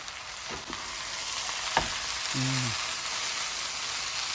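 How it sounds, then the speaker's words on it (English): Potatoes and peas with spices for samosa filling sizzle steadily in a pan while a spoon stirs and taps against it, close and moderately loud, with a brief tonal hum partway through. "To mix this really well, so all the spices are mixed with the potatoes and the peas"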